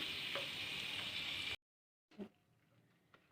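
Hyderabadi tomato chutney frying in oil: a soft, steady sizzle with a stirring scrape, then a sudden silence followed by faint clinks and stirring sounds.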